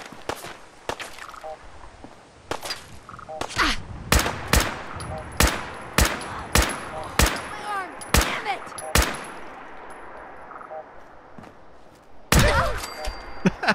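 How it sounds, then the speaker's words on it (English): Rapid gunshots ring out in Fallout 4, a dozen or so sharp cracks at an irregular rhythm: scattered at first, then a dense run of evenly spaced shots, and a final louder blast near the end, with no talking. "there's somebody shooting at Doggo"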